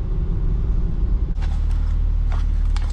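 A 2024 BMW M3 Competition xDrive drives along with a deep, steady engine rumble that thickens after a brief shift, close and continuous, with faint higher rattles over the drone.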